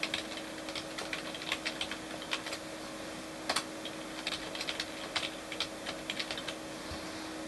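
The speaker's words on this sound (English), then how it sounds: "you should see some text which has been typed in from the keyboard" Steady typing on a computer keyboard, quick irregular key clicks over a faint background hum.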